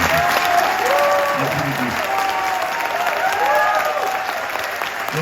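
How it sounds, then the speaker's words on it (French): Crowd applause on the quayside at Brest port greeting sailor Anthony Marchand on his arrival, steady sustained clapping throughout, with a voice briefly speaking over it. "on aimerait qu'ils se souviennent de vos applaudissements"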